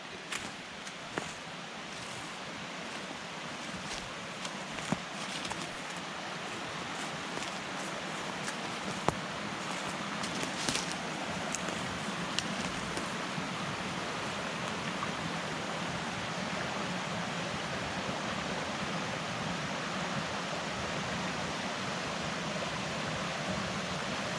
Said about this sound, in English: It's got a nice little babbling brook.